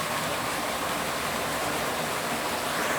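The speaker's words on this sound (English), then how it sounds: "There's the water tumbling down through the lock doors, through the lock gates rather" Canal water tumbling down through lock gates, a loud, steady rushing roar of falling water with no pauses, close by and alone.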